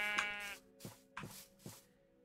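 Sheep in the video game Minecraft Bedrock bleating: several short, nasal, wavering bleats in quick succession, clear and close with no other sound behind them.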